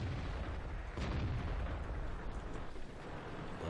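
A T69 light tank destroying an enemy tank in World of Tanks, heard as a fairly faint, distant explosive burst followed by a rumbling, crackling tail over steady battle noise.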